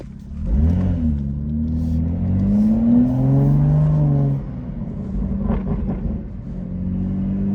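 A car driving in Sport Plus mode, its engine droning loud and near as it revs up and settles, with low exhaust rumble and a few faint burbles toward the end.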